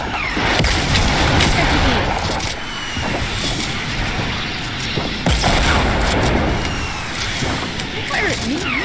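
RPG rockets explode in a Fortnite Season 8 battle, heavy booming blasts and bursts of gunfire arriving in waves, with a player's voice talking over the action.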